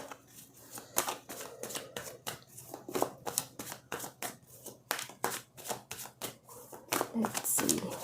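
A tarot card deck is shuffled close up, giving rapid crisp riffling snaps and papery slaps in an irregular rhythm, with faint room tone between bursts and no talk.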